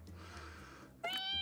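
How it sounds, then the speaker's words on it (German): A cartoon cat in the PS4 video game Fantasy Friends gives a single short, bright meow that breaks in after a second of quiet game ambience. "Das ist eine Katze."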